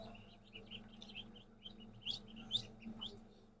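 Faint, rapid high-pitched peeping from newly hatched ducklings in an egg incubator, irregular and overlapping, over a low steady hum; no voices.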